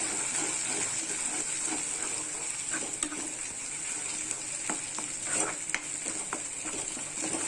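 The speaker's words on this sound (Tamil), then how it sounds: "மீதி வந்து இந்த இஞ்சி பூண்டு பேஸ்ட்டோடு நம்ம வந்து நல்லா எண்ணெயில் குக் பண்ணிக்கலாம்" Ginger garlic paste and a masala-marinated chicken mixture fry in hot oil for malai chicken, giving a steady, close sizzle broken by scattered clicks and scrapes of stirring.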